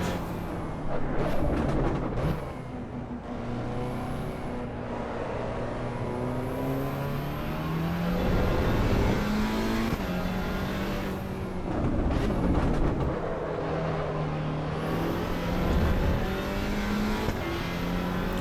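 A race car engine in the game Assetto Corsa EVO roars steadily, rising and falling in pitch through gear shifts and revving, with a synthetic, game-like character and no talk.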